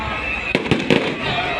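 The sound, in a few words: fireworks exploding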